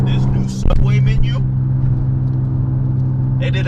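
A steady low engine hum and road rumble fill the cabin of an Infiniti G35 coupe while driving, with a voice briefly rising over it early on.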